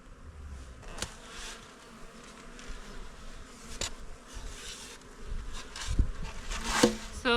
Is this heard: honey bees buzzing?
yes